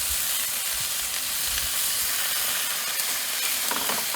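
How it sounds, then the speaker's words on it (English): Burgers and bacon sizzling in a frying pan while van camping, a steady loud hiss and crackle that runs unbroken with a few low knocks of the pan and no talking. "Alrighty, burgers are on. Let's get some bacon on."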